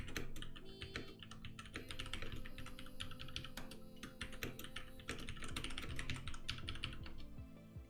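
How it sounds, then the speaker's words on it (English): Typing on a computer keyboard while setting up a passphrase for a Digital Ocean and Dokku server, a steady run of quick clicky keystrokes over faint background music or hum, no talking. "Let me just switch over here while I type some things."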